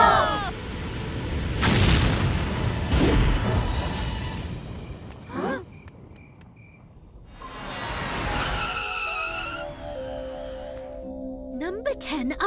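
A cartoon rocket blasts off with a deep rumbling roar that swells and fades, then whooshing and whistling effects and cheerful chiming tones follow, with voices speaking over parts of it.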